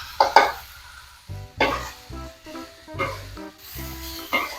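Tofu and tempeh stir-fried with sugar and stock powder in a pan, a spatula scraping and tossing in several separate strokes over a soft sizzle, close by, no talk.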